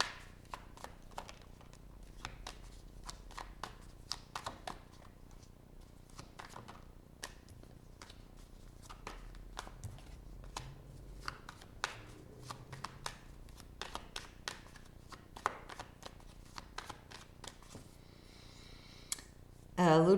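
Tarot cards are shuffled by hand in a quiet room, a long run of close, soft riffling and crisp card clicks in uneven bursts, ending with a brief voice at the very end.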